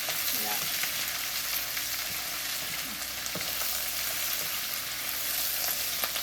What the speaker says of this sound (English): They get all wilted and fried up in the potatoes.